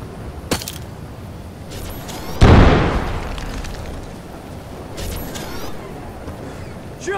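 Frag grenade detonating in the video game Crysis Remastered, a single loud boom midway that rumbles and decays over a couple of seconds amid scattered gunfire and game noise.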